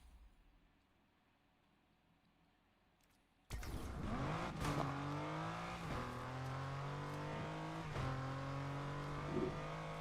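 A Lotus Elise with a grip build in a racing video game: quiet at first, then its engine abruptly kicks in loud and close, revving through several gear changes with rising and falling pitch, no talk.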